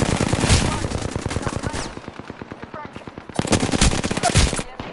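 Automatic gunfire in the video game Apex Legends rattles in long rapid bursts, a sustained stream of shots, then a brief lull with scattered pops before another dense burst resumes.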